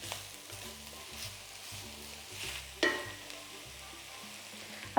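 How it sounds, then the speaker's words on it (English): Butternut squash and carrot being stirred together in a pot for soup, a soft continuous scraping and sizzling over a low steady hum, with one sharper knock near the middle and another at the very end. "Mix all together."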